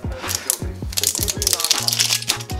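A Disney Ooshies XL mystery bag is cut open, with close, crinkly plastic rustling and a few sharp crunching snips in quick bursts, alongside faint voice sounds.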